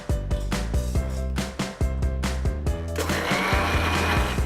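A kitchen grinder crushes fried edible gum into powder in a run of rapid rhythmic pulses that turn into a continuous whirring roar, close and loud.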